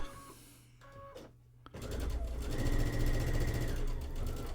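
Sewing machine stitching quilt fabric pieces paired straight edge to straight edge, a steady mechanical whir starting partway through and running loud and continuous after a quieter stretch with faint tones.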